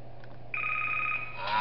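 Electronic phone ringing in the horror video game Five Nights At Darl's Remastered, a steady bright tone starting partway through over a low background hum, fairly loud and alone.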